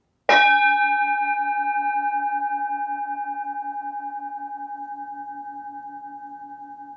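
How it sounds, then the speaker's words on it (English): A single bell struck once during a guided meditation, a clear metallic ring with sharp onset and long, slowly pulsing decay that lingers alone in silence. "Then you hear a bell ring."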